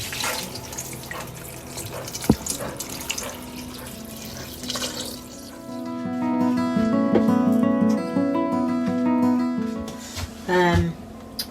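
Water poured from a vessel over elderflower heads and two chopped unwaxed lemons in a narrowboat kitchen: steady splashing and gurgling that starts near the midpoint and runs loudly to the end, with soft background room noise before it.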